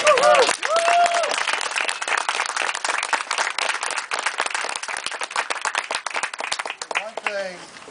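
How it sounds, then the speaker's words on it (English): An audience at a Capital Area Red Cross chapter gathering claps and cheers for its volunteers, with dense, sustained applause throughout and a brief voice at the start and end. "I'd just like to say one big cheer for our volunteers"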